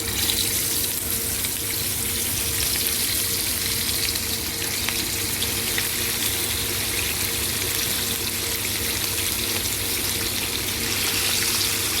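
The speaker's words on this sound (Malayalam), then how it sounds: "അപ്പോൾ അതിലേക്ക് നമുക്ക് ഓരോ മീനുകൾ ഇട്ട് കൊടുക്കാം." Fish dropped into hot oil sizzles and crackles loudly and steadily, a dense, continuous frying hiss with no break and no talk.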